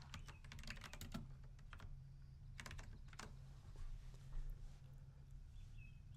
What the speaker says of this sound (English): Next, we'll type our message.